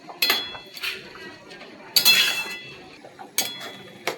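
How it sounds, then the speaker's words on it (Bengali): Lapa greens stirred in a cooking pot, with a few sharp clinks and scrapes of a utensil against the pot at uneven intervals and a faint sizzle between them, close by. "শাকটা ভালোভাবে নেড়ে দিয়েছি"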